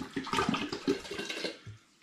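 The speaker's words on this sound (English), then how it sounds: "I'm going to add some spring water in there." Spring water glugs from a plastic bottle into apple mush for cider, a loud splashing, gurgling pour with uneven surges that fades near the end.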